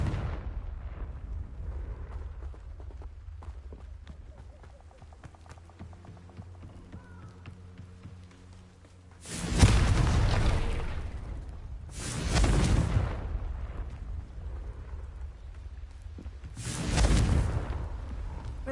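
Three Confringo fire-blast spells in Hogwarts Legacy go off several seconds apart, each a loud whooshing burst with a rumbling tail over a low ambient game hum, with a faint tonal musical passage before the first.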